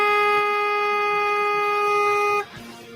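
A vehicle horn honks at caribou, a single loud, steady blast held for about two and a half seconds before cutting off abruptly.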